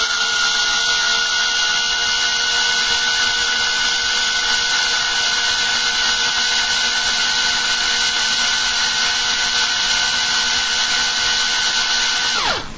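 An electric screwdriver fitted with a custom adapter runs continuously at a steady pitch for about twelve seconds, a close, even motor whine that winds down abruptly at the end, with no talking.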